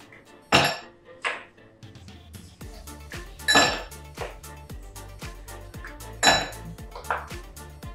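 Ice cubes dropped into a glass while making dalgona coffee, a hot and cold whipped coffee drink, giving three loud sharp clinks at even intervals over fainter rattling and kitchen clatter, with no talking.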